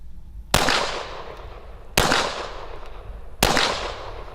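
Three single gunshots at a weapons range, each a sharp loud crack with a ringing decay, evenly spaced about a second and a half apart against low background noise.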